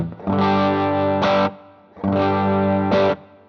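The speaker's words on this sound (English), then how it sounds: "this is what the humbucker mode on the bridge pickup sounds like" A modded Telecaster Thinline with Seymour Duncan P-Rails in humbucker mode on the bridge pickup, driven through a dirty Vox AC15: two thick, crunchy strummed chords, each ringing about a second before a brighter stab and cutoff.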